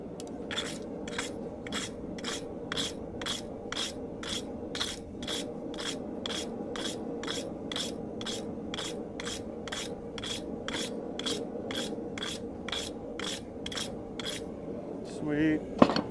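A hand rasp works a guitar body in steady back-and-forth strokes, about two per second, rough scraping bursts repeating over a constant low hum, with a faint clank at the very end.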